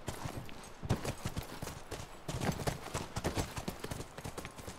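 Horse hooves clip-clop on the ground in The Last of Us, a quick uneven rhythm of close, distinct hoofbeats with no talking.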